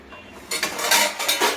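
Pots, dishes and cutlery clatter and clink close by as they are washed, in a short run of uneven metallic knocks and rattles.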